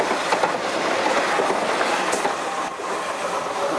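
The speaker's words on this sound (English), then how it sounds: "Now, we have another train going by right now." A Melbourne suburban train at South Kensington rushes past at speed, a loud continuous roar of wheels and rolling stock with faint clacking and a brief squeal, no talking.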